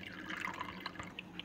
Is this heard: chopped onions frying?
no